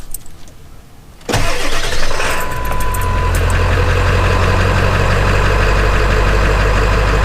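A 7.3 Powerstroke diesel truck engine cranks and fires, then settles into a loud, steady, rumbling run heard up close, with a deep low drone and some rattly clatter carrying on to the end.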